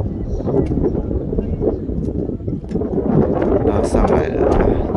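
Wind gusts roar steadily across the microphone on a high seawall by the sea while fishing, a continuous low rumbling buffet with no talk.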